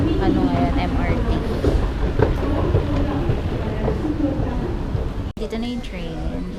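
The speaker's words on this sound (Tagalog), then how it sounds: "Dito na yung train." MRT train arriving at a Singapore station on a quiet Saturday, a steady rumbling rush under loud chatter and voices on the platform.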